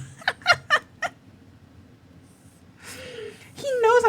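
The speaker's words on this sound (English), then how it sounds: "That was such a defiant meow he just gave just now." A cat lets out a defiant, rising meow near the end, loud and close, after a few earlier short vocal bursts and a stretch of quiet room noise; no clear talk over it.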